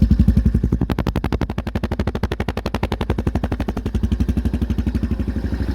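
A 2008 Yamaha Raptor 250 quad idling loud and close with its baffle fitted, a fast, even, hard-pulsing single-cylinder putter that holds steady throughout.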